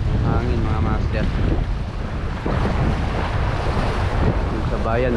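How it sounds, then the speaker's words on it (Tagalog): Strong southwest monsoon wind roars across the microphone in a constant blustery rush while shore fishing in Palawan, Philippines, with water churning beneath and a voice speaking intermittently. "Abagat ang hangin mga master"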